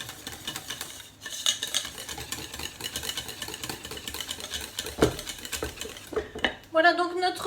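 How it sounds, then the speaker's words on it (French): Utensil stirring salt, pepper and paprika into a vegetable base of courgette, chorizo and peppers, with soft scraping and clinking against a bowl throughout and a few sharper knocks near the end. "Et je mélange."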